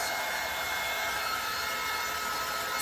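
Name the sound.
heat tool heat-setting chalk paste to dry it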